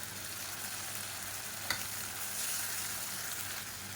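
Tomato paste sautés with onions in a pan for egg gravy, a soft, steady sizzle with a faint stirring clink partway through, with no talking.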